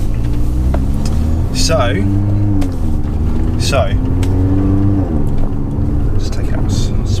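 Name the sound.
Mercedes A45 AMG car pulling out onto a road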